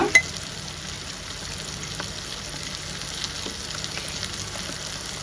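Chicken pickle gravy being stirred into fried rice in a pan, a steady soft sizzle with faint scraping and clinks running evenly throughout, no voices.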